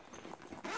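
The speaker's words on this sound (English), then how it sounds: "Zips up." A bag pocket zipper pulled shut in one quick, close zip lasting under a second, with no talking.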